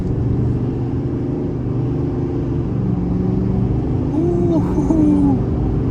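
A 2023 Chevrolet Silverado 3500 High Country dually pickup accelerates from inside the cab, its engine a steady loud rumble that swells slightly near the end, with faint tire and road noise.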